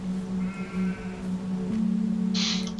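Sheep bleat in the farming game Farming Simulator 22, with several wavering animal calls over a steady in-game hum, close and fairly loud, plus a brief higher rustle near the end.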